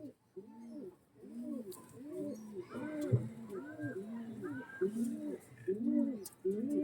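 Tournament-flying pigeons cooing in a repeated throaty rhythm, several soft rolling coos in close succession, near and fairly loud, with a few higher warbles layered in.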